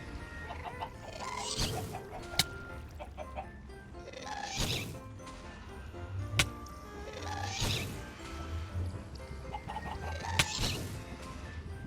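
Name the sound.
chickens clucking in Minecraft video game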